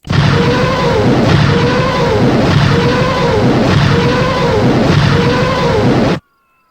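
Artillery in the Arma 3 IFA3 war mod fires five burst rounds, heard as a loud, steady roar with five evenly spaced swells that runs for about six seconds and then cuts off abruptly.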